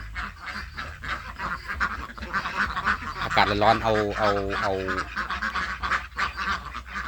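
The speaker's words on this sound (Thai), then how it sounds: "ภาพบรรยากาศเป็ดมาฝากกันนะครับ" Yi-Liang ducks quack in a rapid burst of repeated calls amid a noisy farmyard, with a person talking over it.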